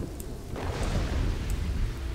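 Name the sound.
rain falling in the Kingdoms and Castles video game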